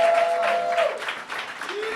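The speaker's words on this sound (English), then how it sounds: "Can we give another round of applause for the panelists?" A brief round of applause from an audience at a youth justice summit for the panelists, a soft, diffuse clatter of hands lasting about two seconds.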